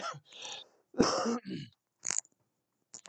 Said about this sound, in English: doing a bit of coughing tonight